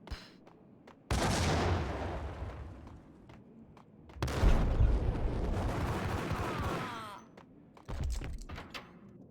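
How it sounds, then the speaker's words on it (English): Gunfire and grenade blasts from the PC game Max Payne come in three loud, booming bursts, each a heavy explosion trailing into rattling shots and debris. Quieter ticks and thuds fill the gaps between them. "Another grenade."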